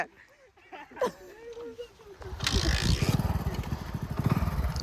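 Splendour Plus and HF Deluxe motorcycles rev hard in an outdoor tug of war, a loud continuous engine roar with rapid pulsing building after a quiet start, while people talk and shout nearby.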